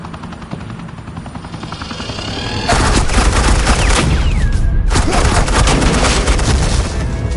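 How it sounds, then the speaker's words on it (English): Rapid suppressing gunfire from an agent in a Batman video game, a loud continuous rattling burst that swells in and runs steadily, with a brief dip partway through. "suppressing fire"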